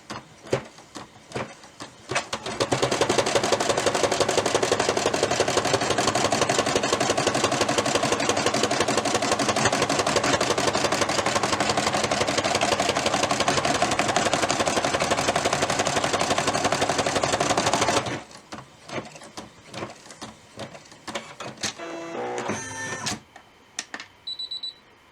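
A Brother embroidery machine runs its final stitch pass on a photo ornament project, a loud steady mechanical whir with rapid needle ticking for about fifteen seconds, then it stops and only faint clicks and handling sounds remain.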